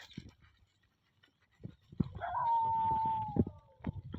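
A dog gives a long sustained howl at close range, preceded by short bark-like bursts and some scuffling, with no talk over it.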